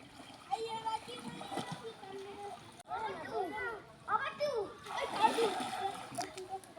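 A child in water with a swim tube, splashing repeatedly in bursts while children's voices and talk carry on loudly over and around the splashes.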